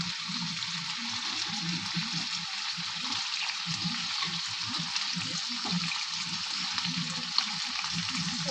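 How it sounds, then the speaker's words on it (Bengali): Food, likely onion or chicken for a chicken recipe, fries in hot oil in a pan with a steady, bright sizzle throughout, with occasional low stirring or handling sounds underneath. "সুন্দর বেশ বাদামি কালারের ভেজে নেব।"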